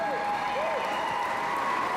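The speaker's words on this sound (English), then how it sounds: "Give them a nice round of applause." Crowd applause at a horse show finals, a continuous spread of clapping across a large audience under a faint tonal hum, with a voice briefly heard over it.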